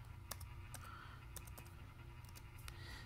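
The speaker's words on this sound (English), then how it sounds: "Now I'm typing with one finger on my left hand." Sparse, irregular computer keyboard clicks, typed with one finger, tap out one at a time over a steady low hum, close by and fairly quiet.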